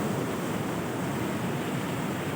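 Strong sea waves surge and wash at Bucana beach in Nasugbu, Batangas, a steady loud roar of surf close by with wind buffeting the microphone throughout.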